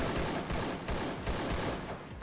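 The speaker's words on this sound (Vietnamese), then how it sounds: "Ồ sao nó lại vừa quỳ vừa bắn thế kia." Rapid gunfire in the video game Free Fire from a player shooting while kneeling: a dense, continuous volley of shots with steady repeated bursts, loud and close, with no talking.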